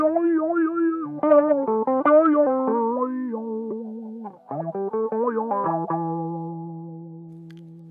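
Electric guitar played through a Sonuus Wahoo pitch wah, single notes and bends sweeping with a tracking vocal-like wah tone, sustained and up close with no talk.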